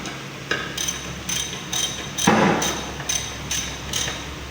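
A 10 mm socket tightens a bolt during a transmission overhaul, giving a run of regular metallic clicks or taps about every half second, with one heavier knock in the middle, close and clear.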